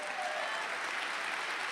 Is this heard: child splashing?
no